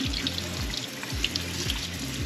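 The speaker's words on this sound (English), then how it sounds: "Get all this rinsed off." Running tap water pours steadily over beef bacon being rinsed in a sink, a close, continuous splashing rush with a few soft clunks underneath.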